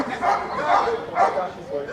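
A police dog barks during a K9 demonstration at a police command center, giving a few sharp barks and yips over loud, overlapping talk from people nearby.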